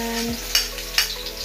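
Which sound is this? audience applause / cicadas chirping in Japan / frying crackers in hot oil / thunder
frying crackers in hot oil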